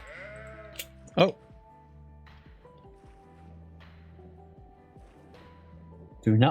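Goat bleats in the survival game Vintage Story: a sharp bleat near 1.2 seconds and another at the very end, over steady game music with a player talking in between.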